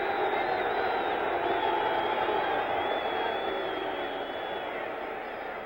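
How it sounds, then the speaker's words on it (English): A large stadium crowd at an NFL football game between the Rams and Saints keeps up a steady, restless roar throughout, with a faint whistle-like tone drifting above it. "The crowd restless."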